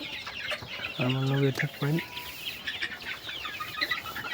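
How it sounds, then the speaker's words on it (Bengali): Farm chickens cluck and call close by, with a loud rooster-like burst early on, while someone talks over them. "মুরগিগুলো বড় হয়েছে।"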